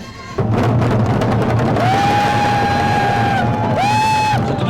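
At a large indoor party rally, a crowd of supporters cheers and shouts steadily under a few high, sustained individual whoops and squeals.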